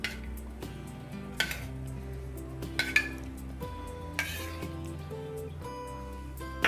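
Metal spoon clinking against a dish while scooping yogurt into soya chilli, several light taps and clinks spread across the clip, close by over a steady low hum.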